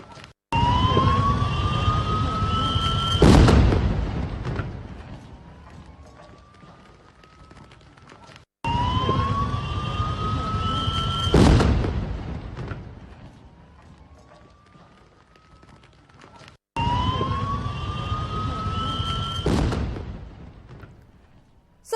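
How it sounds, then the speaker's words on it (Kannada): An oxygen cylinder inside an ambulance in Maharashtra explodes, a sharp loud blast heard three times in repeated footage, each following a wailing siren-like tone with rumbling background noise. "ಒಂದು ಬಾಂಬ್ ಬ್ಲಾಸ್ಟ್ ರೀತಿ ಶಬ್ದ ಕೇಳಿಸುತ್ತೆ ನಿಮಗೆ"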